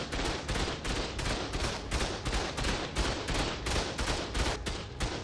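Automated turret gunfire in Ark Survival Ascended during a base raid: rapid, relentless bursts of shots hammering in a steady rhythm, loud and close, with dense overlapping reports and no pauses.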